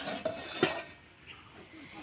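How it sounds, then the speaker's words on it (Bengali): A lid lifted off a cooking pot after steaming on medium heat, heard as a couple of close metallic clinks and a scrape, then quiet. "এবার ঢাকনাটা খুলে দেখে নেব।"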